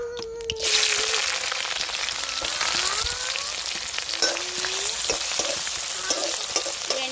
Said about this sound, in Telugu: ముందైతే వెండి చేపలు అనేది ఫ్రై చేసేస్తాను